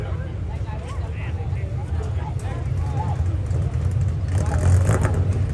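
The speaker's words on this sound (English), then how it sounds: "Backing his number 83 mini stock up into proper position." Number 83 mini stock race car backing up into position at Airborne Park Speedway after a win, its engine a steady low rumble throughout with a slight swell near the end, with a voice talking over it.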